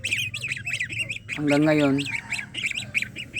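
Young goslings squawk and honk in repeated harsh calls at close range, with one longer drawn-out honk in the middle, while someone talks among them.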